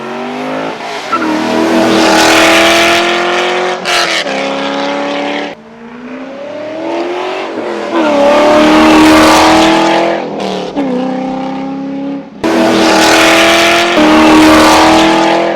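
A C5 Corvette with a custom straight-through exhaust revs loudly and close, climbing in long raspy pulls with brief drops between bursts.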